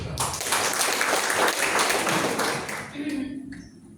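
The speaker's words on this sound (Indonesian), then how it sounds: "tepuk tangan untuk itu" Loud, dense applause from a congregation at a Sunday church service fills most of the moment, then fades as a voice starts speaking near the end.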